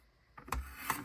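Scissors cutting paper to make waterfall tabs for a traveler's notebook: two crisp, close snips in quick succession after a quiet moment.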